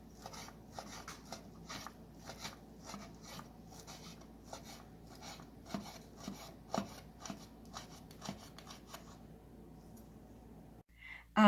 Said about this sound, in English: I'm gonna cut them to little pieces